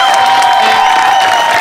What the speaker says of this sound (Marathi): एकदा जोरदार टाळ्या त्यांच्यासाठी झाल्या पाहिजेत